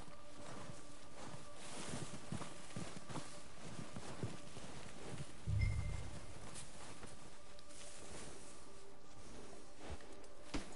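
Horse hooves clip-clopping at a steady walking rhythm in the video game Red Dead Redemption 2, faint and even, with a low soft wind-like background.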